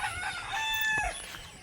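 A rooster crows once in the morning, a fairly near, drawn-out call over faint background rustle and no talk.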